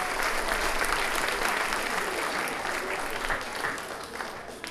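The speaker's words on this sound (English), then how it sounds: "So give yourselves a round of applause." A live music show crowd in Adelaide breaks into steady applause, a dense, even wash of clapping at moderate volume lasting throughout with a few scattered louder claps near the end.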